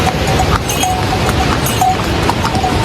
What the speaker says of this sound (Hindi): तो ये हमारे घोड़े आ गए यहाँ पे